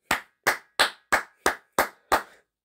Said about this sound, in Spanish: tengo que aplaudirle a Nicolás George Hagen